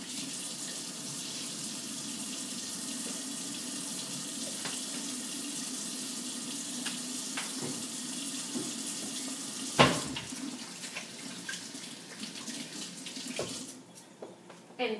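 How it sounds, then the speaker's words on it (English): Tap water runs steadily into a kitchen sink while hands are washed after a bacon and sage wrapped turkey tenderloin goes into the oven, a continuous hiss with a brief clatter near the end. "Give my hands a nice wash here."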